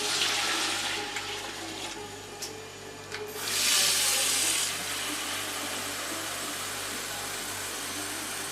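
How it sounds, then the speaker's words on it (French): Water running steadily from a tap into a couscous pot to cover meat for cooking, a continuous close pour with a brief louder surge partway through, no talk. "On va faire le niveau de l'eau pour faire cuire toute cette viande là."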